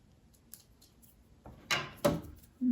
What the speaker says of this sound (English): cut my threads